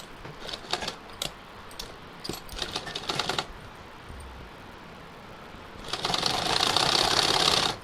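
A sewing machine stitches the ends of a strip of gota trim for a festive dress, running in short bursts of rapid stitching, then a longer, louder continuous run near the end, close up with no talking.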